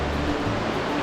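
Creek water flowing steadily along Big Creek in the Smoky Mountains, a continuous broadband rush heard close and fairly loud, with no voices over it.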